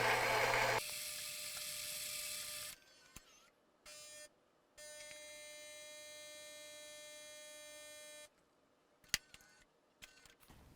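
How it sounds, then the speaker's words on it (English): A Gaggia Anima bean-to-cup espresso machine set to five-bean strength runs through a cycle: a loud grinding burst at first, then steady motor whirring and humming with pauses, a few clicks, and quiet gaps near the end. "in one touch, we have delicious bean-to-cup espresso"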